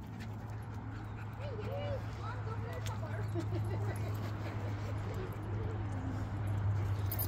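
A pack of dogs playing together, with the new dog whimpering and yipping in wavering high cries over constant panting and scuffling, close and busy throughout.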